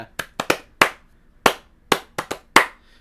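Sharp clap samples in a music track, about eleven crisp hits spaced in an irregular rhythm, each fading quickly, with nothing in between.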